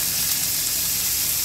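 Sliced onion sizzles in hot oil with garlic and asafoetida, a dense, steady hiss of frying that stays loud and even across a brief moment.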